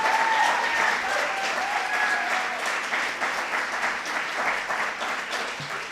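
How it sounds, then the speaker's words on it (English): An audience at a postdoctoral awards and recognition ceremony gives a round of applause, dense continuous clapping from a large crowd that holds steady and slowly eases off, with faint voices mixed in. "So let's give another round of applause for Dr. Brown."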